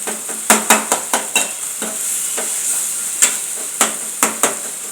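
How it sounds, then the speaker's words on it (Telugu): Tomatoes being smashed in a pan, heard as sharp, close knocks of a utensil against the pan in quick irregular bursts, with soft sizzling in the background. "టమాటాలని చితగొట్టేస్తున్నా"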